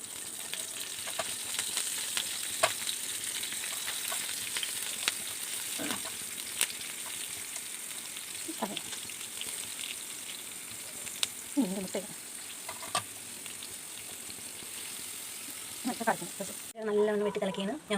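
Salted, spiced tuna pieces frying in a pan, a steady hissing sizzle with scattered pops and occasional brief faint voices nearby.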